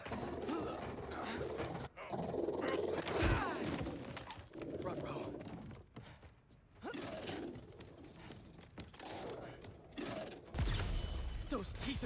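Mechanical whirring, clanking and ratcheting noises from a robot beast in Marvel's Spider-Man 2 rise and fall over a busy game soundscape, with a loud metallic surge near the end.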